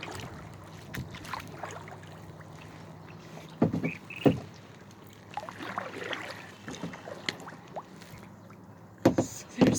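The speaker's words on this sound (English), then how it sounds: "just here in my little kayak" Small kayak paddled across a lake, with intermittent paddle splashes and water drips close by over a soft wind-noise bed, several sharper strokes standing out near the middle and end.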